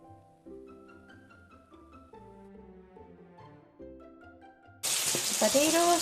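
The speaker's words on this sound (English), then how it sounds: "The potatoes are frying really good." Cubed potatoes fry in a pan on a stove at high heat, a sudden loud sizzle that starts partway through after a quieter stretch of soft kitchen clatter.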